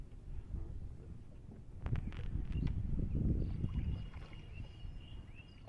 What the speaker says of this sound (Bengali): আমি কিন্তু নৌকা চালাচ্ছি